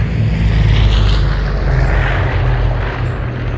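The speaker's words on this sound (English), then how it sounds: "Oh, the aeroplane." Airplane in a video game passes overhead, a loud, steady propeller-engine drone holding for a few seconds.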